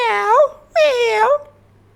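A human voice imitates a cat, giving two clear, close meows in a row, each with a rising and falling pitch, then a short silence.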